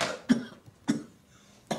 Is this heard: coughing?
yes